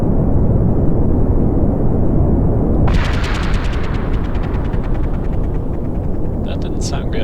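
Rocket engines burn in Kerbal Space Program as a steady, loud roar that fills the whole clip and turns rougher and crackly about halfway through, with sharp popping bursts near the end.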